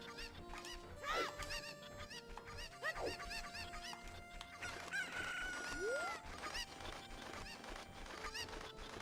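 Chickens in The Legend of Zelda: Ocarina of Time cluck and squawk in repeated sharp, rising calls, one longer crow-like cry among them, set against a busy background of game sounds.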